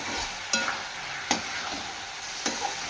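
Veg chowmein noodles and vegetables with a squeeze of lemon are stirred in a hot pan, a steady background sizzle broken by three sharp scraping strokes of the spatula spaced about a second apart, with no talking.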